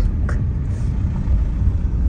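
A truck rumbles steadily from the inside, giving a low, continuous engine and road drone with no talking over it.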